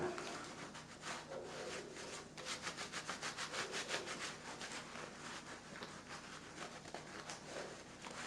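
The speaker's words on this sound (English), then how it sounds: "I'll put some in the palm of the hand and rub them together." Work gloves treated with a product are rubbed together palm to palm, making a steady rhythmic scuffing that continues throughout at close range. The sound is fairly quiet.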